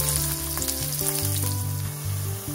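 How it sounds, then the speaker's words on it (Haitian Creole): Chopped onions fry in a hot pan for Haitian rice and pigeon peas, giving a loud, continuous close sizzle with slight crackle and no voices. "On va ajouter les oignons. On va ajouter bien frit."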